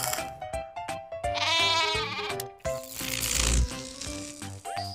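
A sheep bleats in quavering, wavering cries over a busy, cluttered background of clicks and rattling.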